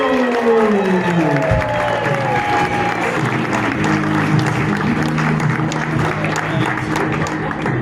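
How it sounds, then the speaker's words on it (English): A comedy club audience breaks into loud, sustained applause and cheering for an incoming comedian, dense clapping with shouts mixed in, close and continuous with a voice heard over the crowd early on. "Start clapping right now. Make some noise."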